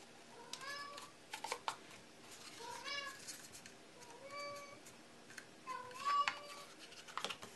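In a household where someone is crafting a paper box, a cat meows repeatedly in the background, several short plaintive cries over steady room hiss, with a few faint clicks and rustles nearby.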